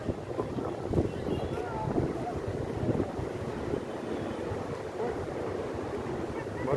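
Floodwater in the swollen Chandrabhaga river rushes past near a small bridge, a continuous broad roar with wind buffeting the microphone and a voice speaking over it at times.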